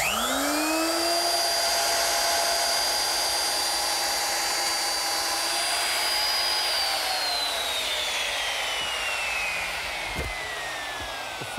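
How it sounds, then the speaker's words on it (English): Handheld router fitted with a quarter-inch round-over bit easing the corners of a redwood arbor arch: a loud, steady high-pitched whine running continuously, its pitch sagging slightly as the bit cuts, alone without talk. "I can ease the corners using a 1/4 inch rounding over bit"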